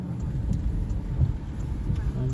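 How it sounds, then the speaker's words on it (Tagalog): Dense low rumble of heavy typhoon rain and wind, loud and continuous, with a faint voice underneath. "Ayan, malakas pa rin ulan."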